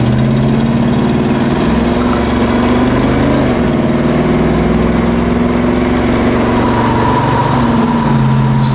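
Box Chevy car engine pulled hard in a quick burst of acceleration, a loud, close, steady rumble with the engine note rising and shifting as it revs, heard from inside the car with no talking.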